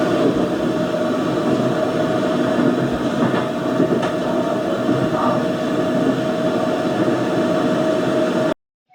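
Loud, steady rumble and hiss inside a moving subway train, with a constant droning tone and faint rail clatter for several seconds before it cuts off abruptly.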